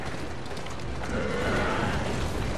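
Horse neighing with hoofbeats from Assassin's Creed Syndicate, set in Victorian London: a steady, fairly loud bed of noise with a whinny rising midway, no clear talk over it.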